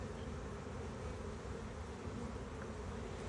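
Honey bees swarm and buzz around an opened hive holding queen cells and honey, a steady dense drone that carries close and unbroken throughout with no talking.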